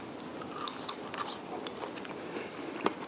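Quiet, crisp crunching bites into crunchy air-fried French fries made in a Cosori air fryer, a few close, brittle snaps over a low background hiss.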